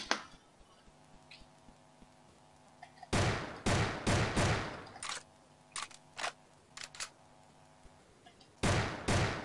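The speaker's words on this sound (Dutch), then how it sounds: "Ik kan rapid fire schieten dus." Rapid-fire gunshots from a Roblox video game come in loud, clustered bursts of sharp cracks, with a short quiet stretch between volleys and faint background tones underneath.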